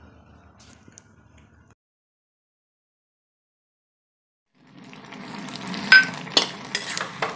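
Drumstick and tomato curry frying in a pan, stirred with steady sizzling and scraping that begins after a quiet stretch and stays close and fairly loud to the end.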